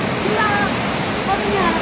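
The Ganga river in a hilly mountain village flows with a loud, steady rushing wash of water, close and continuous for a short moment.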